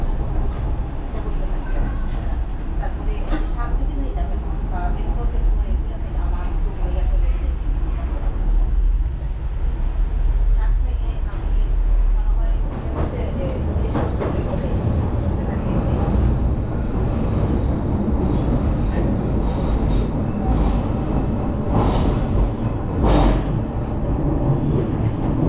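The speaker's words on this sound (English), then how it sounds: "DLR heading into Canary Wharf on our way towards Greenwich." A DLR train heading into Canary Wharf in London rumbles along the track with a steady loud rolling drone and rattling clatter, growing busier midway, with faint talk underneath.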